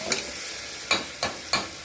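Four short scraping stirs of a spatula through a thick tomato and carrot paste in a pan, spaced unevenly against a soft, steady sizzle.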